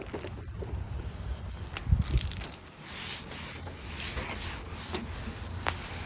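A clay towel rubs back and forth over the contaminated paint of a 25-year-old truck, giving a faint, gritty scraping hiss in quiet, uneven strokes.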